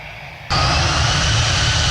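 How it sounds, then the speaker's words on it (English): Plane departing an airport: a loud jet engine roar swells up suddenly and then holds steady and close. "And here's a plane departing the airport."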